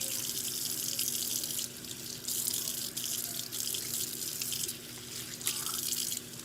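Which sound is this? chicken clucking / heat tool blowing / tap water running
tap water running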